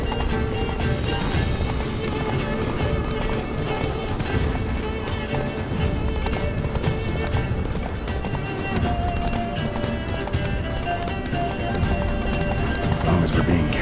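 Galloping horse hooves in The Witcher III, a steady fast clip-clop running throughout over a dense game soundscape with occasional whinnies, close and loud.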